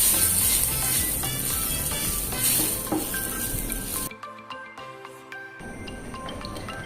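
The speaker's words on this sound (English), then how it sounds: "Now on the grill pan, I will add some butter and brush some butter onto the grill pan." Butter sizzles on a hot grill pan with steady crackling and stirring noise, then drops abruptly to a quieter stretch with light clinks before the sizzle resumes.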